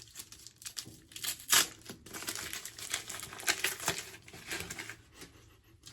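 Paper wrapping is peeled off a bar of Wool Fat shaving soap close up, giving irregular crinkling and crackling bursts with a few sharper rustles and no voices.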